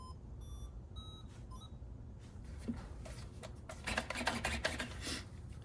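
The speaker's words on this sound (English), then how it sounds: "Hear a little jingle." A short electronic power-on jingle of bright beeping tones from a WPL D14s RC drift truck controller, followed by faint rubbing and clicking handling noises, fairly quiet overall.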